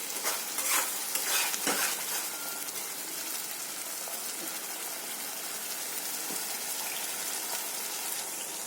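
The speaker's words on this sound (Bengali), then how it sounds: "আর একটু জল দিলাম" Water poured into spice paste frying in a pan for a rohu fish and coconut chorchori, giving a steady, close sizzle and bubbling hiss that holds throughout with a few sharper crackles early on.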